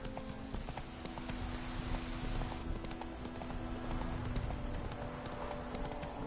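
Horse hooves clip-clop at a steady trot in the video game Witcher 3, a regular rhythmic clatter over constant game ambience, with no talking.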